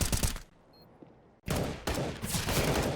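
Gunfire in Counter-Strike: Global Offensive during a professional esports match, with a burst of rapid shots, a short lull, then another loud sustained volley close by.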